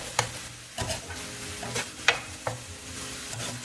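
Plant-based chili ingredients start cooking on a stovetop, with a soft steady sizzle broken by several sharp clinks and scrapes of a utensil in the pot, close and without talk.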